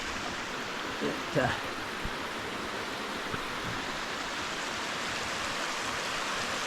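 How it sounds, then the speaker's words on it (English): A mountain waterfall on Little Ware mountain rushes in a steady, broadband roar that fills the whole stretch, with a few faint brief sounds rising above it near the start. "That's a nice waterfall, eh?"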